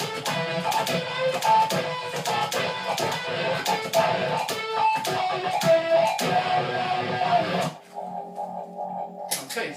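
An electric guitar solo played through phaser, DS1 distortion, a Digitech whammy set an octave up and a wah pedal, with rapid choppy notes and sharp attacks. It breaks off near the end into a quieter sustained tone.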